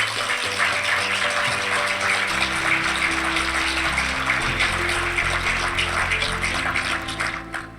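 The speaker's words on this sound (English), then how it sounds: "Let's take a moment to acknowledge their unwavering encouragement with a round of applause for the family that are here supporting the" Graduation audience at a fall 2024 electrical apprenticeship ceremony breaking into sustained, dense applause for the graduates' families; a steady wash of many hands clapping fills the room for several seconds, with a low tonal hum underneath.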